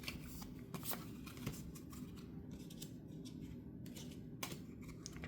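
Pokémon trading cards from a pack being handled up close, quiet crisp flicks, slides and rustles scattered through a soft background.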